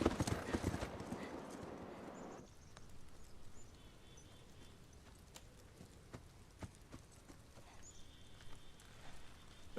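Horse hooves clip-clopping in The Last of Us, a steady run of sharp, evenly spaced clops at close range, with a brief louder burst of noise at the start and quiet ambience beneath.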